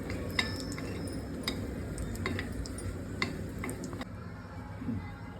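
Grated coconut dry-roasting in a pan while a spatula stirs it, giving a steady low rustle with scattered light scrapes and taps against the pan. No voices.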